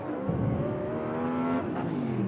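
A winged sprint car runs a time trial lap in a War of the Wings round, its engine a loud, steady high-pitched roar with rising and shifting pitch as it speeds around the track, alone without talk.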